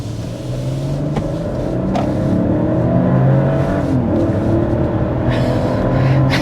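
A 2024 Mercedes GLS 450 flagship luxury SUV accelerates with a smooth, steady engine drone that climbs gradually in pitch, heard from inside the cabin and fairly loud without any talking.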